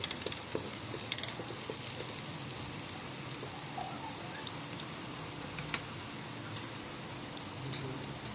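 Onions with ginger and garlic frying gently in a pan, a soft continuous sizzle and crackle with occasional pops, steady and fairly quiet with no talking.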